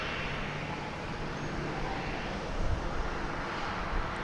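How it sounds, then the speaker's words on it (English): A Boeing 737-800 jet airliner on flight 1506 to Indianapolis, heard at DFW Airport, produces a steady, fairly faint engine roar that swells slightly toward the end, with no talk. "That's a flight 1506 off to Indianapolis, Indiana."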